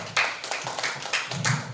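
A small group at a school counselling and teacher-training session claps briefly, the sound breaking into several uneven bursts of hand claps, fairly close but not loud.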